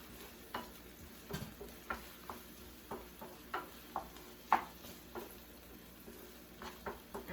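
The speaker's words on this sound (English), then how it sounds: "We will saute for 1 minute" Onions sauté in hot oil in a pan for crab cakes, giving a steady soft sizzle broken by repeated quiet clicks and scrapes of a utensil stirring at a loose, uneven rhythm.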